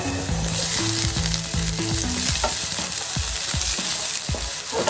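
Chopped garlic and ginger sizzle steadily in hot oil in a pan, a loud, dense frying hiss with a few soft knocks of stirring, no voices.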